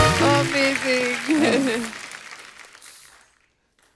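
Studio audience applause on a TV comedy show, The Kapil Sharma Show, blends with music and a brief spoken word, then fades out over about three seconds.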